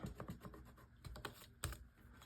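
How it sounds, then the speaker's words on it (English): Faint, quick scraping and ticking as a scissor blade rubs across a scratch card, an irregular patter of small scratches close up. "I literally don't have anything to scratch these off with except for these scissors"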